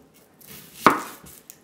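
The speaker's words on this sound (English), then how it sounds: "we're going to chop up one small onion" A kitchen knife strikes a cutting board once while an onion is chopped, a single sharp close chop amid near silence.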